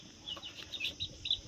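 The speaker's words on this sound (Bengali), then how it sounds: "মুরগির বাচ্চা। এগুলো খুব সুন্দর" Faint, high-pitched peeps from young Australian-breed chicks chirp in quick, scattered bursts, soft and somewhat distant in a quiet setting.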